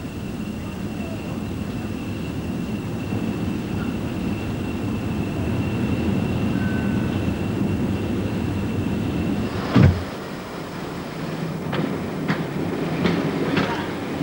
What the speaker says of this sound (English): And on Barry Smith's journey, Exeter Central was the place for finding yet another train.